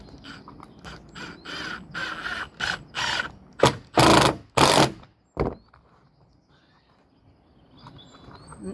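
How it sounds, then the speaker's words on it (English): Bitumen roofing sheets on a wood kiln being screwed down with a power driver, a series of short buzzing bursts that grow louder and longer before stopping, then near silence. "the fun bit, screwing down some sheets"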